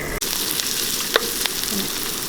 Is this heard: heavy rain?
no